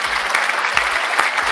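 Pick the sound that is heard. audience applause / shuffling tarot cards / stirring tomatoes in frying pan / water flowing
audience applause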